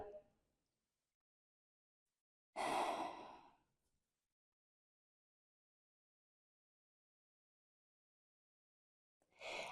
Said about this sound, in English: Take a few deep breaths into your belly.